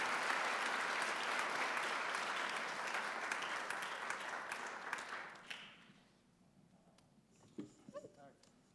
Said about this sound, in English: Please join me in welcoming Alan and Rabbi Lazowski